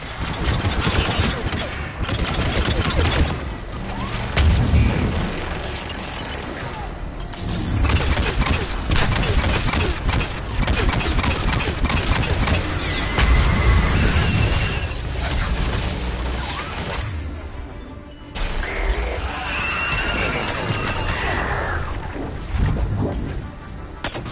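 Missile strikes and explosions in the Mass Effect 3 video game come as dense rolling bursts, booms and mechanical rattling over about twenty seconds, loud and chaotic, with a short lull near the end.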